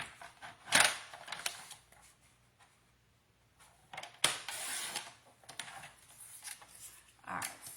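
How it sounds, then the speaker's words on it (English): Paper cutting as the branding strip is trimmed off a scrapbooking traveler's pocket card, several brief crisp snips and slicing bursts separated by quiet pauses, close and moderately loud, with no talking. "I want to cut off the branding strip first."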